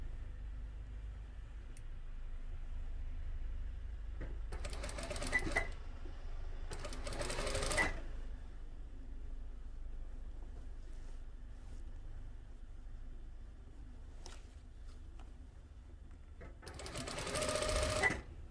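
Sewing machine stitching a 1 cm seam on an oversized shirt collar, a low steady whir running throughout with a few brief louder bursts, close and moderate in level.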